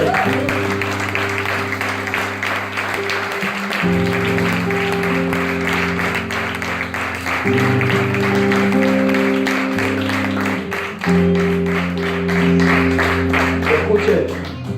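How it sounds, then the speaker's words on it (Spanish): A church congregation applauds continuously over sustained keyboard chords that shift every few seconds, the clapping loud and steady throughout. "Da un aplauso a él."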